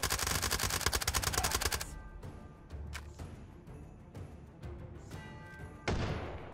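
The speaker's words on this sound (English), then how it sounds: "someone's got a shotgun" Rapid automatic gunfire in the VR game Hot Dogs, Horseshoes & Hand Grenades, a dense loud burst at the start followed by scattered single shots and a final heavy blast, with no talk.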